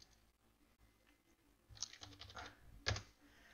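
Keys tapped on a computer keyboard as a name is entered, a couple of short bursts of clicks with a sharper cluster near the end, fairly close and otherwise quiet.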